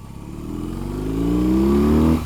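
A new BMW R18 boxer-twin motorcycle engine revs up close and loud, the pitch rising steadily as it accelerates during a ride before cutting off abruptly.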